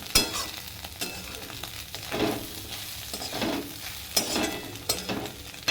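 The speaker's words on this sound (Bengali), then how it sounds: "ভাজা ডিমগুলো মেরে মেরে দিয়ে দিলাম।" Spatula scraping and stirring in a sizzling pan, irregular strokes as food is mashed and turned, close and moderately loud.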